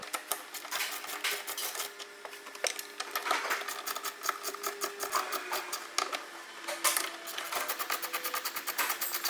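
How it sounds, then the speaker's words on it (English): A deep 10mm socket on a ratchet removes the mirror nuts from a 1999-2002 Silverado or Sierra door, with fast clicking runs and light metallic handling noises, close up and without speech. "you'll go ahead and remove the 3 nuts."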